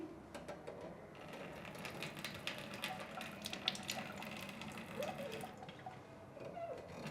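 Water running steadily from a kitchen tap in an apartment, a faint continuous hiss and splash heard with some soft clicks and handling noise.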